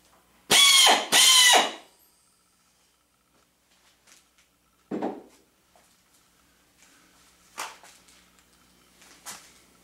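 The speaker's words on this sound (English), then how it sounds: "Now I have it set at 60 psi, which is more of a normal range for operating a drill." A pneumatic drill at 60 psi on a construction site fires two short, loud, whining bursts close up, followed by quieter scattered clicks and brief mechanical knocks.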